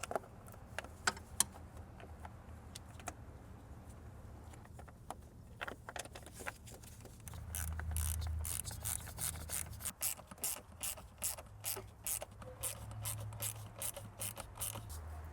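Bolts on the intake manifold of a Mercedes ML350 W166 are tightened with a ratchet, giving quiet rapid clicking in short bursts, with scattered metallic taps and tool handling close by.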